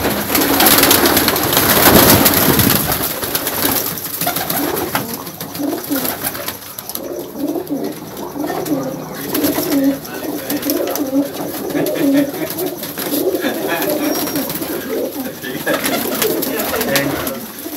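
Green-eyed pigeons kept for pigeon flying coo over and over in a steady, overlapping rhythm, close and loud, after a burst of rustling noise at the start.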